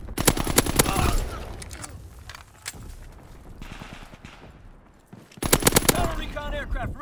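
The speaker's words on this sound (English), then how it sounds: "Anti-aircraft battery in position. Ready to deny the skies on your order." Anti-aircraft battery fire in Call of Duty WW2: rapid, loud bursts of automatic gunfire at the start and again near the end, with quieter, scattered distant shots and a voice in between.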